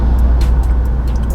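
Steady roar of road traffic on the highway between Indore and Dewas, a dense continuous low rumble of cars and heavy vehicles passing close by, with no talk.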